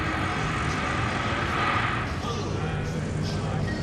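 Light aircraft engine droning steadily at an air show comedy act as the plane comes around to land, a continuous broadband hum over crowd and wind noise, with speech-like voices mixed in.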